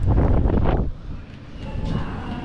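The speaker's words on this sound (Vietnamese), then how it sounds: "Gió quá sợ ồn." Strong wind buffets the microphone on a scenic outdoor spot in Jeju, a heavy low rumble for the first second before easing into a steadier, gusty roar.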